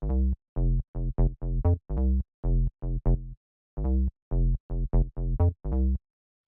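A bouncy synth bass line plays alone, short punchy notes in a syncopated groove with brief gaps between phrases.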